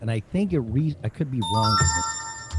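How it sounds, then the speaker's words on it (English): A mobile phone ringtone goes off partway through, a steady multi-tone melody ringing under a man's ongoing conversation. "No, that was my phone going off."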